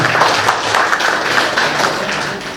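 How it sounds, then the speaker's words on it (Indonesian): An audience at a formal gathering for millennial senators claps loudly and steadily, a dense, continuous roll of many hands that tapers slightly at the end. "Kita beri aplaus kepada senator milenial"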